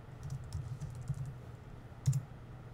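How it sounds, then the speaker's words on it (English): Typing on a computer keyboard in graphic software, soft irregular key clicks in a quiet room, close and fairly faint, with a brief louder burst of keystrokes near the end and no talk. "and start typing, and it'll type centered"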